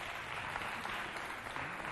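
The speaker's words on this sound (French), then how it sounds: "On applaudit les membres du jury qui ont fait un très très bon travail." An audience applauds the jury at a children's performance event, dense steady clapping from many hands throughout, moderately distant, with no talking over it.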